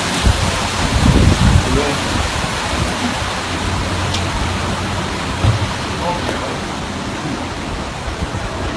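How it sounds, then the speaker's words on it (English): Hurricane Irma pounding Cuba's northern shore, with a dense, steady roar of wind and rain and a few brief louder gusts or knocks. "The powerful storm pounded Cuba's northern shore with wind and rain"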